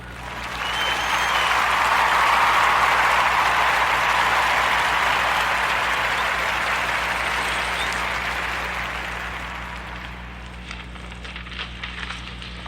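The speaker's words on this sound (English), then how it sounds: "Let's give a warm Narrative Podcast round of applause to Candace Mitchell and Myavana." A live podcast audience breaks into applause, a broad crackling wash of many hands that swells, holds steady, then thins to scattered claps near the end, with a low hum underneath.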